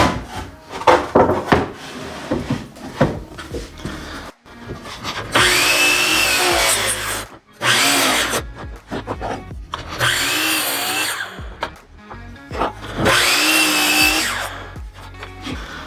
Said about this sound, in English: We're gonna go ahead and cut another one at 8 inches.